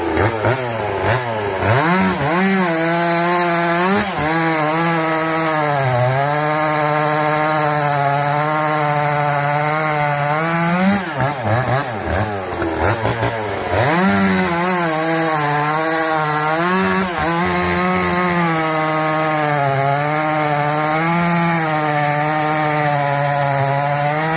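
A chainsaw cuts through knotty wood, its engine running loud and close for the whole stretch. The pitch rises and falls as the throttle opens and the chain bogs in the cut.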